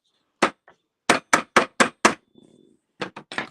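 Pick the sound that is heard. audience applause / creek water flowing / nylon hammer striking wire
nylon hammer striking wire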